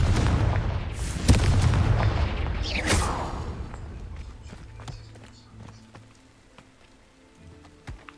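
Confringo blasting spell cast in Hogwarts Legacy, a loud explosive burst with a rising whoosh and crackling debris, then a fading rumble with scattered sharp ticks.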